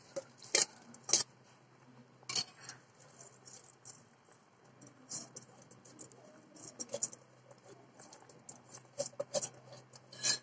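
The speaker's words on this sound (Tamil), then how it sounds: "இந்த மாதிரி மேலாக கிளறி விட்டுக்கோங்க." Scattered scraping and clinking taps of a utensil stirring basmati rice in a pot of water, irregular and close, with soft bubbling underneath and no talking.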